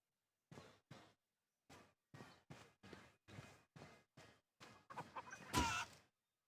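Chickens cluck in an action RPG video game: a string of short, evenly spaced clucks heard alone against silence, ending in a louder, busier squawk.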